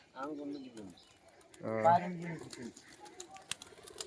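Pet pigeons at a loft coo in two distinct bursts, close and fairly soft, with someone speaking alongside in the quiet gaps.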